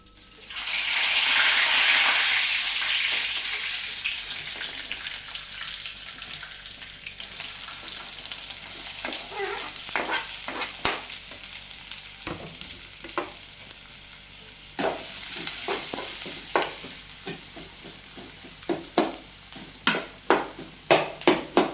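Cumin and mustard seeds hit hot oil with a brief, strong opening sizzle that settles into a quieter fry, then scattered sharp crackling pops grow more frequent toward the end.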